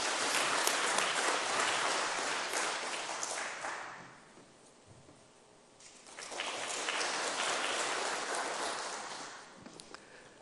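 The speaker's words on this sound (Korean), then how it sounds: "우리 박수로 환영하겠습니다." Church congregation applause welcomes an elder at a Sunday service, a dense burst of clapping that fades to near quiet around the middle, then swells again into a second sustained round.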